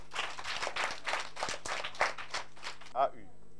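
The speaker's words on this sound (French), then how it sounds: "Applaudissez pour lui." Children in a classroom applaud a classmate with a quick run of close, fairly loud claps lasting a few seconds, ending in a single louder clap.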